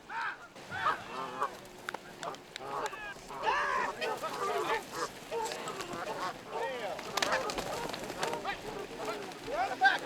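A flock of geese honks repeatedly and overlapping as they are rounded up outdoors for banding, the calls loud and close with scuffling between them and voices talking in the background.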